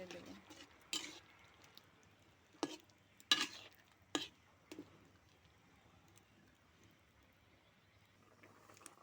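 Sour mango pieces with spice powder, salt and turmeric get stirred in a pan: a handful of sharp scraping and clinking strokes spaced a second or so apart over quiet background, close but faint.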